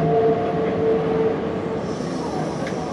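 A Hankyu Senri Line train rolls through a sweeping left curve, its wheels squealing against the rails in a thin sustained tone that fades over the steady rumble of the moving train.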